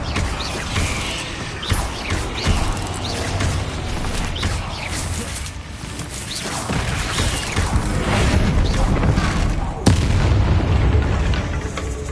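Confringo fire-explosion spells in Hogwarts Legacy on PS5 boom repeatedly within dense game combat noise, with heavy blasts, crackling bursts and a sharp hit near the end, loud and continuous.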